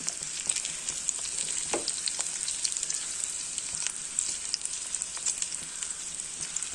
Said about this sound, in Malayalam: വഴുതനങ്ങ രണ്ട് ട്രിപ്പായിട്ട് ഷാലോ ഫ്രൈ ചെയ്ത് വെച്ചു